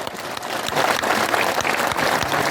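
A crowd at an outdoor election rally breaks into loud, dense applause, a brief roaring burst of many hands clapping at once without any speech on top.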